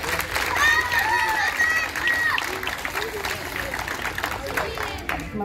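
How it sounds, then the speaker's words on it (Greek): Applause for a primary school at a school championship award ceremony in Katerini, a busy crowd of clapping and chatter with voices rising over it throughout. "Ένα μεγάλο χειροκρότημα."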